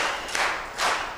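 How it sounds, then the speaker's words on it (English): An audience at the East African Civil Society Summit 2025 claps in unison, producing two broad, roomy bursts about half a second apart. "Let's clap for ourselves as Africans"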